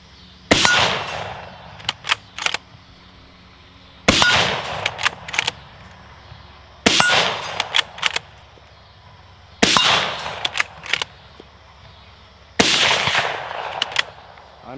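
Five suppressed Mosin rifle shots in Escape from Tarkov ring out at a steady pace, each a sharp crack followed by a short metallic rattle of the bolt action, loud and close, with no talk.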